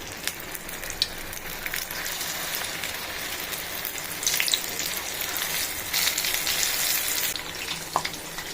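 Batter-coated chillies fry in hot oil, a steady close sizzle with crackling bursts throughout and no talking.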